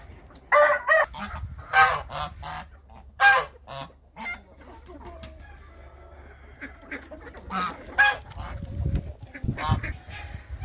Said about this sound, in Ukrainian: Зараз будемо кормити своє господарство, хазяйство, свою птицю.